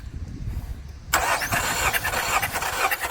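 A Nissan Rogue's engine cranks during a compression test. After a second of quiet low rumble, a loud, steady, buzzing crank starts abruptly and continues up close to the end.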